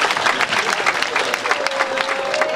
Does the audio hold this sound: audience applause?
yes